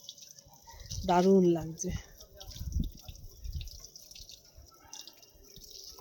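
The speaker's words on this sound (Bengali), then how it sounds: "এই জল দিলাম" Water poured onto the dried-out base of a lemon tree drips and splashes softly, with a brief voice speaking near the start.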